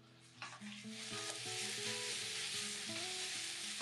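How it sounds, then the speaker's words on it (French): Beef sears in hot oil in a sauté pan over high heat, giving a steady, loud sizzle and fry hiss throughout, with pan and stirring noises and a few tonal clinks layered on top. "Saisir 30 secondes à 1 minute la viande,"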